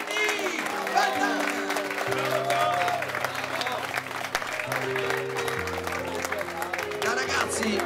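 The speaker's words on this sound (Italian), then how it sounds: "Voglio un applauso forte per Giovanni!" An audience applauds for Giovanni at a 2018 show in Jesolo, a steady dense wash of clapping lasting several seconds, with music tones and voices running beneath it.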